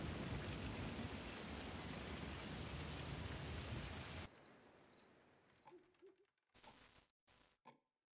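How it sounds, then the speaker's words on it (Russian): In the Beyond Cruelty 7: Monster in the Mask video game, rain falls in a steady hiss for about four seconds. It then cuts off and is followed by faint scattered game sounds. "Ух ты, дождик пошел, вы смотрите."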